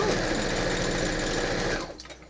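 Sewing machine running continuously while stitching a row of a quilt, loud and close, then stopping abruptly near the end.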